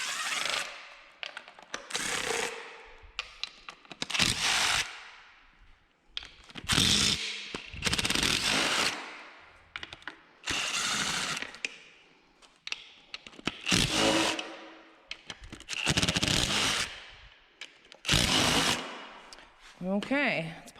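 Ratchet wrench loosening a row of 10mm valve cover bolts on a Datsun Z inline-six engine, heard as repeated bursts of rapid clicking with short pauses between, close and fairly loud, with some speech mixed in.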